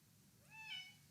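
A pet cat named Rosie gives a single rising, drawn-out meow, soft and close, over a quiet room hum.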